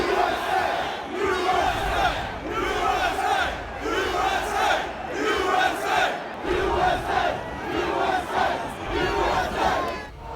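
Crowd of rioters at the US Capitol on January 6, a dense mass of voices shouting rhythmic chants in repeated loud surges, roaring continuously and close.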